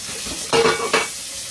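Water sloshes around inside a can in two quick swishing bursts, close and fairly loud, with a soft background hiss.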